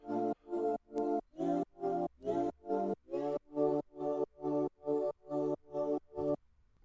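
Sustained synth pad chords from a Serum patch, played together with a bass line, repeat in about fourteen even, rhythmic pulses for a UK garage track, full and loud, with no voices.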